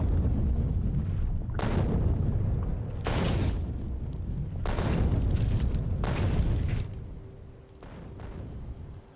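Booming artillery fire in a video game, heavy blasts arriving in broad bursts every second or two, dense and rumbling with a sustained low roar between shots and no talk.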